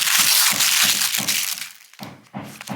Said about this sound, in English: pardon the background construction noise only because